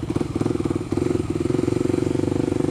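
A 2014 Kawasaki KLX 250 supermoto's single-cylinder engine chugs close by in a steady, rapid pulsing beat, with a brief dip in throttle before it picks back up.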